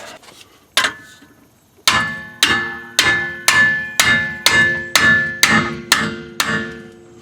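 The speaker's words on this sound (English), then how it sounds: "impact hammer it might be" An impact hammer strikes metal in a steady series of sharp, ringing blows, about a dozen in quick succession after a couple of spaced-out hits, during rear brake work on a 2011-2017 Honda Odyssey.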